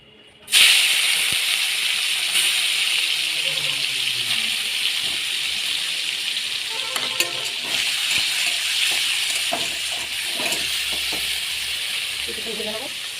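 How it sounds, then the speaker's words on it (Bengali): Steady, loud hiss and sizzle of shrimp coated in salt and turmeric frying in hot oil, continuous throughout after a sudden start, with faint clinks now and then. "তেলটা গরম হয়ে গেছে, এবারে মেখে রাখা চিংড়ি মাছ নুন হলুদ দিয়ে মাখিয়ে রাখে, এটা এবার ভেজে নেব।"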